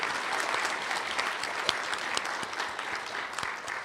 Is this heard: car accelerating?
no